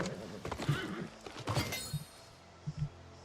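Horse hooves clip-clopping in the video game New World: Aeternum, several spaced thuds at close range, with a whinny-like tone mixed in and no talking.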